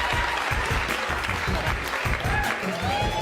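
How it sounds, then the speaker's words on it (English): A podcast studio audience claps in a dense, brief burst of applause that holds steady throughout, close and lively. "Why y'all clapping?"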